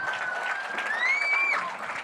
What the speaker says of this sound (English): So give him a big round of applause as he comes out.